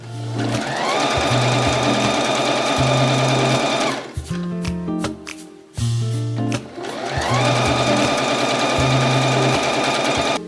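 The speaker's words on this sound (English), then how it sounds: "we're gonna top stitch so the lining doesn't come out" Sewing machine top stitching a bag lining, its motor whirring loudly in steady runs with a brief stop and a few short bursts in the middle before the long run resumes.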